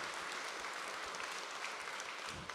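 Applause from a conference audience after an economic outlook presentation, a steady dense wash of many hands clapping at moderate distance with no break across the clip.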